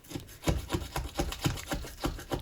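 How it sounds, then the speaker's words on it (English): A razor blade scrapes a glass stove top in short, even strokes, about eight rhythmic rasping passes close up, each stroke a brief gritty scrape. "Note that I'm only actually applying pressure in the forward direction and being careful not to tilt the razor to the side or move it side to side."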